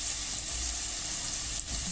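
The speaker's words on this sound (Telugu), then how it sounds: "ఒక నిమిషం పాటు ఉల్లిపాయలు మగ్గాలండి" Onions frying in a pan for mutton kheema curry give a steady, close, bright sizzle with a soft undertone, unbroken and with no voices over it.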